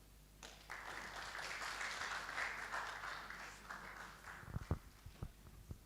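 Applause from the audience at the NARO Director General handover and takeover ceremony, a steady sustained wash of clapping from many hands that fades out into a few scattered louder claps and knocks.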